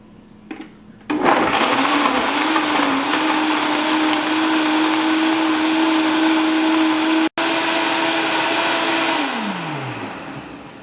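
A high-powered blender set on high whirs through Brazil nuts and spring water for nut milk, starting abruptly with a loud steady whine, cutting out for an instant, then running on before winding down with a falling pitch.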